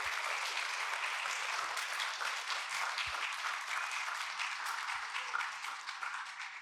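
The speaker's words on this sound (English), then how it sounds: "So I'd like to thank Mirek, Jakub, please applause for them, just for taking care." A seated audience at a 2025 end-of-year awards ceremony gives sustained, even applause for more than six seconds. The dense clapping stays close and steady, then thins slightly at the end, with no talking over it.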